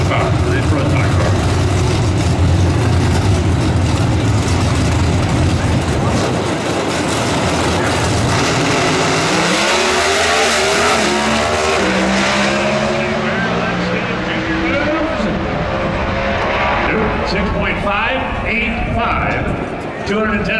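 An NHRA Pro Stock drag racing car makes a qualifying run at the Sonoma Nationals, a sustained, very loud engine roar that holds and then shifts as the car pulls away, with a commentator talking over it.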